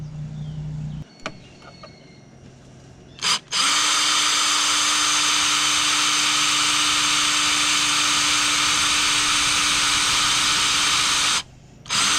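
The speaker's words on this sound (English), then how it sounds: "Now that we got that hole drilled" Electric drill bores a hole for a traction bar installation, a sustained loud whining buzz running steadily for about eight seconds after a few short trigger blips, then stopping and briefly restarting.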